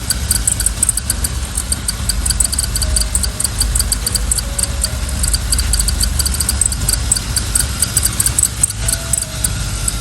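A 1992 Chevrolet Camaro Z28 engine, slightly overfilled with oil, idles steadily up close, a constant low rumble with a faint rattling texture, no talking over it.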